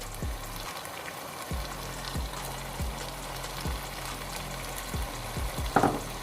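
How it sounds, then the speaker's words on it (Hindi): Yogurt added to a hot pan while cooking chicken biryani, giving a steady close sizzle with regular stirring scrapes and a brief louder burst near the end. "अब मैं इसके अंदर दही ऐड करने लगी हूँ।"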